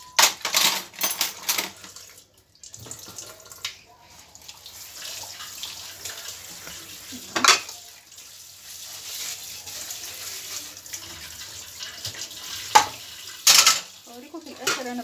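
Tap water runs into a kitchen sink while spoons are washed, with scattered metallic clinks and clatters of cutlery over a soft continuous water hiss, close and moderately loud.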